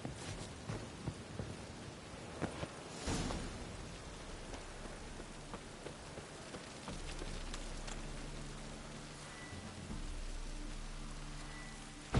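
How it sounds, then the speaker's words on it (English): Rain falling in The Witcher 3, a steady broadband patter throughout with a low rumble joining partway and persisting to the end. "Looks like rain."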